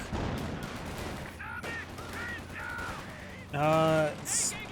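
Bursts of .50 cal machine gun fire in the Company of Heroes 2 video game crackle amid mixed battle noise and game sound effects, with a louder burst near the end.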